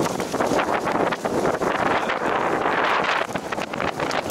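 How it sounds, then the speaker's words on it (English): Wind gusting outdoors at a spring campsite, a loud, continuous roar of buffeting against the microphone with rushing air and rustling, no talk. "The wind changed on me."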